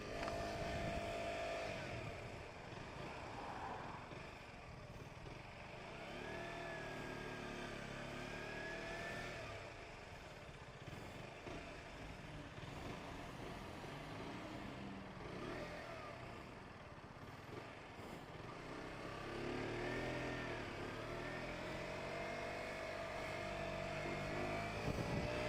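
A 125cc motorbike rides through Sunday traffic around Boston, its engine droning steadily with small rises and dips in revs, close and continuous under wind noise, with other vehicles passing.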